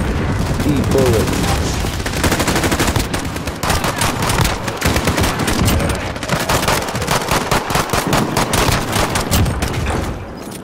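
Sustained automatic gunfire in Call of Duty Modern Warfare survival mode, dense rapid bursts of shots hammering close and loud for the whole stretch, barely pausing.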